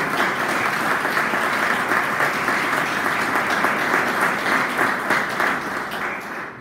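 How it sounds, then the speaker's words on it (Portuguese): Congregation applauding in a church service after a call to praise Jesus, steady dense clapping throughout at close range, tapering slightly at the end. "Glória a Deus, aplauda Jesus."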